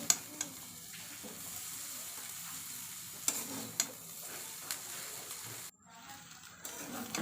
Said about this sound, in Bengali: ফার্স্টে ভেজে নিল আলু, বরবটি, পেঁয়াজ, তারপর চাউমিনগুলো দিয়ে দিল